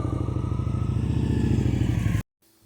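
Motorcycle rolling through a slow, leaned-over U-turn at low speed, its engine a steady, fairly loud low rumble for about two seconds before cutting off abruptly to near silence.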